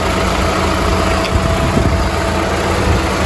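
A 20-year-old Volkswagen Polo engine idles after being revved, with a steady low rumble and vibration, close and loud, with no talking.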